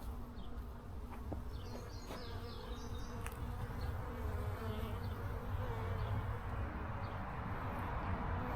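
A dense, steady buzz of many honeybees during a hive inspection, with bees knocked off a queen cage, fills the whole stretch, close and continuous, with a few faint clicks and knocks over it.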